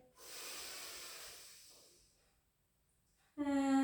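A long, deep, airy inhale during a pilates exercise, close and fairly loud, fading out into near silence before a voice cuts in at the end.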